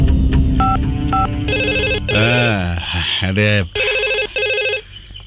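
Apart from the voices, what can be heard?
telephone dialing then ringing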